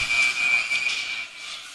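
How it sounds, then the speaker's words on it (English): During an ice hockey game between Chiefs and Bethpage, a referee's whistle gives one sustained shrill blast lasting about a second, over a faint hiss of arena noise. "something happens that we get a whistle"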